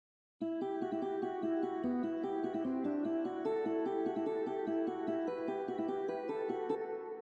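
A plucked guitar-like tone plays a quick repeating melody of short notes, steady and evenly spaced, with a faint, mechanical feel.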